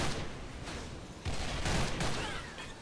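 AK-103 rifle fire in the video game S.K.I.L.L., dense noisy bursts of shooting that blend into a continuous roar with a few stronger cracks, loud and close with no talking.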